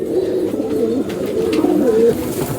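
Madrasi pigeons cooing in a loft in Ichhapur, Kolkata: several soft, low, warbling coos close by, overlapping in short repeated phrases over a dull background murmur.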